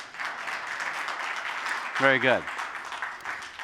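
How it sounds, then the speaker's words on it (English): A conference audience gives a steady round of applause, dense moderate clapping throughout with a voice briefly speaking over it near the end. "Who wants to see that? Round of applause."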